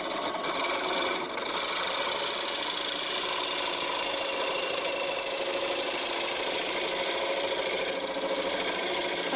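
A homemade bowl gouge taking inside cuts in a bowl spinning on a wood lathe, giving a loud, continuous, dense mechanical drone with rough chatter throughout, close up and with no talking.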